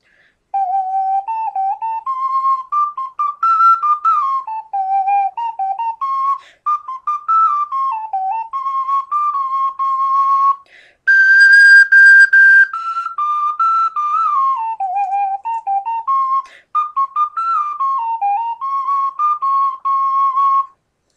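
A homemade ocarina plays a melody in a clear, pure, whistle-like tone, loud and close, with short pauses between phrases and nothing else heard.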